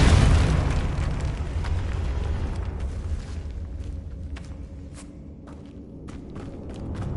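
A Confringo fire spell from Hogwarts Legacy bursts with a loud, deep rumbling explosion at the start that fades into a long roaring decay, followed by scattered debris-like pops and thuds, no talking.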